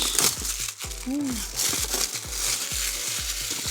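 Plastic packaging of a Magnum Saber Auldey toy car crinkles and crackles through an unboxing, close and busy, over a steady repeating tonal backing.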